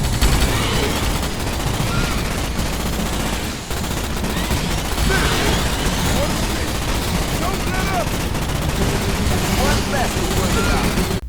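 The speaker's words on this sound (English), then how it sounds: "The infinite ammo assault rifle, clearly a reskin of the Halo assault rifle, that just overheats as a countermeasure, so small control bursts is your key" Sustained assault rifle fire from the PC game Starship Troopers, a dense, loud, continuous rattle of rapid shots running almost unbroken, with one brief pause, under a voice talking.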